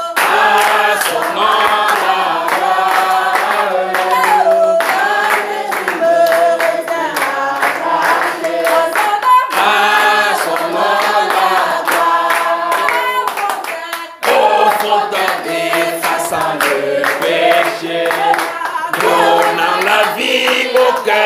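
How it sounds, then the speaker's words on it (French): A church congregation claps amid loud worship music and singing, the hand claps blending into the steady band and voices throughout. "applaudissons."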